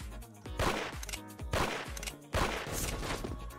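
Gunfire in the Roblox shooter Arsenal, bursts of rapid shots in three quick volleys, loud and close, each trailing off before the next burst.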